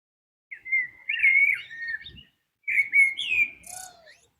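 A bird sings two clear, whistled phrases from a riverbank, separated by a short pause, bright and fairly close, with faint background noise.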